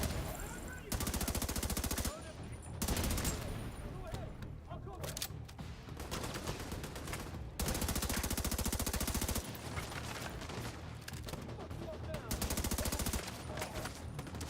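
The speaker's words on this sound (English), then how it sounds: "This rifle is so much easier to shoot" Rifle fire in The Division, played on a Steam Deck, comes as long sustained automatic bursts, loud and close, separated by short pauses, with background game noise between them.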